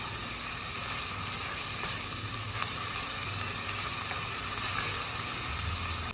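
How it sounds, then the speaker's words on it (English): Sofrito sautéing in the bottom of a pot during deglazing for Puerto Rican chicken fricassee, a constant dense sizzle and crackle filling the whole stretch, fairly loud and close, with no speech. "So we're just sauteing all of this flavor in the bottom while we're deglazing"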